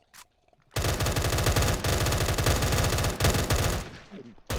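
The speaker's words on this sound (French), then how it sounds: "Ok, un chargeur entier de 40 balles pour tuer un mec." Rapid automatic gunfire in a Minecraft game as a full 40-round magazine is emptied in one long, loud, continuous burst with a few brief breaks and no talk.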